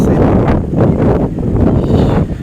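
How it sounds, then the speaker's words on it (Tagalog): Gusty wind buffets the microphone on a swaying bridge over the Pacalat River in Mangatarem, Pangasinan, a loud, close, rumbling roar that surges and eases without any speech. "Mahangin pa, mahangin ngayon."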